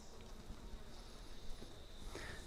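Honey bees hum in an open hive, a dense, continuous low buzz from many insects close by, with faint clicks and shifts but no speech.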